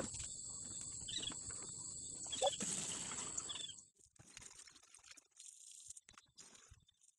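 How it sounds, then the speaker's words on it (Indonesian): Water splashes and trickles steadily onto plants outdoors for several seconds, then gives way to quieter intermittent splashes, with insects chirping throughout. "Sudah selesai nyiram tanaman-tanaman kita ya"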